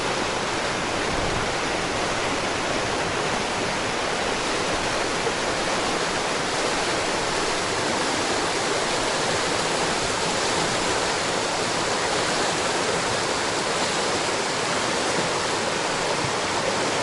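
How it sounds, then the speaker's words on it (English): River rapids roar in a dense, unbroken wash of rushing water, loud and steady throughout with no voices or other sounds breaking through. "Let's go check out the rapids."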